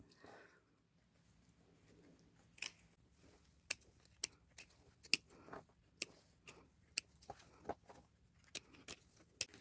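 Scissors snip through distressed denim overalls in a quiet room, with about a dozen sharp, separate cuts spaced irregularly after a brief pause.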